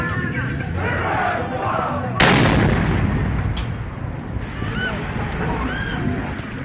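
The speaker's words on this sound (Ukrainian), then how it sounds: "Люди не проходять сотні метрів, як лунає вибух." A sudden loud explosion cuts through crowd noise and scattered shouting, followed by a lingering rumble as the crowd continues.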